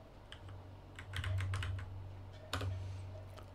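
Quiet keystrokes on a computer keyboard while a password is typed during an EPrints 3.4 install on Ubuntu 22.04, a short run of clicks then a firmer key press, close and without talk.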